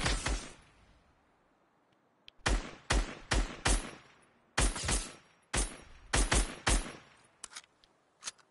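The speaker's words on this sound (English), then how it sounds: "I gotta shoot an AR bullet." Automatic AR rifle fire in Fortnite, loud repeated bursts of rapid shots in several clusters separated by short pauses, with no talking.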